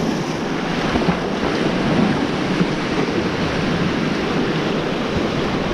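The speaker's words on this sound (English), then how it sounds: "we've got these waves coming in here crashing against the rocks" Sea waves crash against rocks on a UK shoreline where bass lure fishing is underway, forming a loud, continuous wash of surf mixed with wind buffeting the microphone, with no talking.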